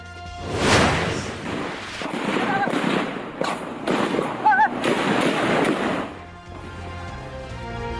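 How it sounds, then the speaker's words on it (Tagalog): Rapid bursts of sharp gunfire cracks during a drug buy-bust operation in Barangay Simuay, Maguindanao del Norte, rattle over a noisy background with sirens or voices mixed in, then fade into low rumbling. "Umalingaw-ngaw ang mga putok na baril sa barangay Simuay."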